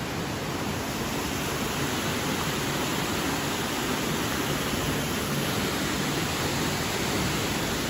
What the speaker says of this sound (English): Sounds like there's a waterfall over here.